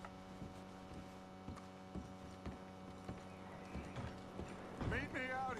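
Horse hooves clip-clop at a steady walking pace in Red Dead Redemption 2, regular close thuds over a low hum, ending with a horse snorting and whinnying near the end.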